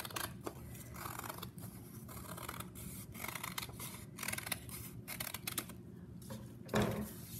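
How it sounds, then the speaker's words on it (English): Scissors snip steadily through paper, cutting out an oval base for an African mask; repeated close, crisp snips and rustling paper with brief pauses between cuts, no talking. "Now we can go ahead and cut this shape out."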